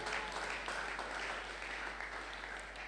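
A church congregation at a Sunday thanksgiving and praise service applauds and cheers for Jesus, a steady wash of clapping and voices heard at a distance, fairly faint and continuous throughout.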